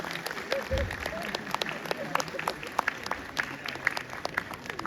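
Audience clapping at a university convocation as gold medals are awarded, a continuous patter of many hands with distinct sharp claps, heard from some distance with faint voices mixed in.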